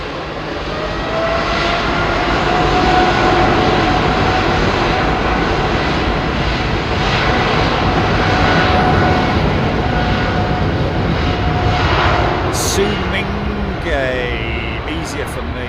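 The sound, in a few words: airplane engines at London Heathrow Airport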